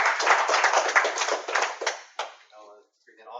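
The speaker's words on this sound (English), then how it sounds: "Let's give Jonathan another round of applause." Audience applause after a talk at a Vue.js and D3.js workshop, dense clapping for about two seconds that thins and stops, followed by faint voices.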